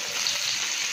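Garlic sizzles in hot oil in a pan alongside bay leaf and chopped onion for vegetable chicken fried rice, a steady, bright hiss that stays close and fairly loud, with no voices over it.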